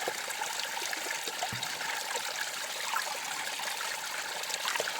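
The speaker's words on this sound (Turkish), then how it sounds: "Suyun debisini biraz çoğaltıyorum ben ondan yanayım." Water runs steadily through a gold-prospecting sluice in a stream, with the flow turned up. It makes a continuous close trickling rush with one soft knock partway through, and no voices.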